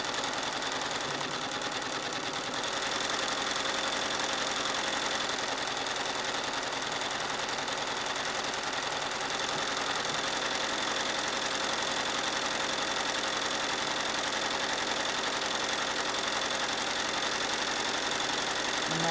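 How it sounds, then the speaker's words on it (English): A sewing machine stitches free machine embroidery on a leaf design, running as a fast, steady mechanical whir without pause for the whole stretch, moderately loud and close with no speech. "So again, I'll sew from side to side."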